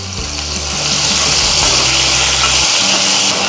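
Ginger paste lands in hot oil seasoned with a pinch of asafoetida while palak paneer is being cooked, giving a loud, steady sizzle with a low rumbling hum beneath it.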